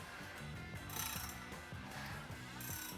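Pistons and rings being moved inside a Ford FE 428 Cobra Jet 7.0 litre V8 engine block, giving quiet repeated scraping and clicking mechanical strokes in a steady rhythm, close up and faint.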